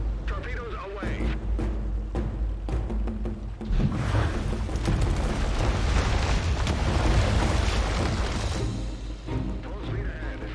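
Torpedoes launch and explode during a naval battle in the strategy game Humankind, producing heavy rumbling booms and continuous crashing blasts that build in a dense, loud wall of sound, with voices talking over it.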